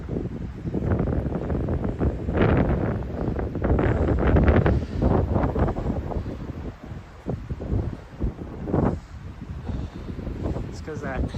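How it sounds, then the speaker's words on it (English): Strong wind gusts roar across a bridge ahead of an approaching storm, a loud, broadband rushing that buffets the microphone continuously, swelling and easing in waves with some rustling throughout. "Just listen to that wind."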